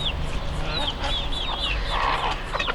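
Two-and-a-half-month-old chicks of a broody hen peep in a flurry of short, high calls close by, several overlapping over a few seconds.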